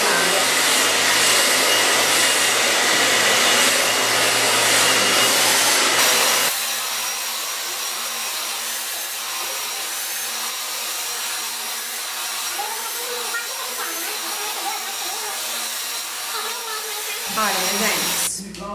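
A hair dryer blows loudly on hair being dried during a capillary botox treatment, a steady roar for the first six seconds, then a quieter, lower blowing continues to near the end.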